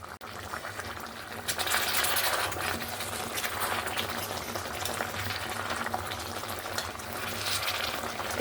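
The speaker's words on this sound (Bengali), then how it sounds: "একটু হালকা হাতে নাড়াচাড়া করে দিলাম" Tangra fish curry with potatoes simmers and bubbles in a pan, a continuous soft boiling hiss with light stirring throughout, no talk.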